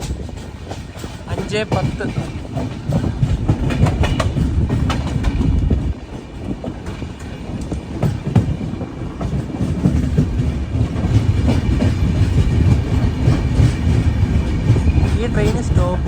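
The Millennium Express rolls into Warangal station at platform 2, a loud close rumbling rush of wheels with steady clickety-clack and metallic rattling throughout, under a speaking voice.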